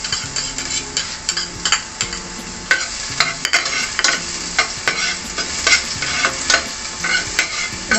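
Garlic and onion frying in oil, a steady close sizzle under repeated scraping stir strokes of a utensil against the pan, with no voices.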